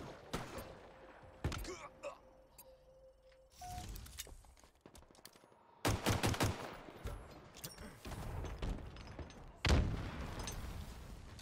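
DMR rifle fire in Halo Infinite: several sharp, close shots in separate bursts with short gaps, mixed with thuds and other game noise.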